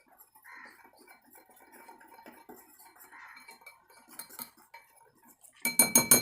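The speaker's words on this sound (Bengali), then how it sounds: "Baking powder, baking soda and cocoa powder. এটা ভালোভাবে মিশিয়ে নেব।" Ingredients clink lightly in a bowl as baking powder, baking soda and cocoa powder are mixed for an eggless brownie, with soft scraping throughout, then a louder burst of rhythmic metallic clinking at the end.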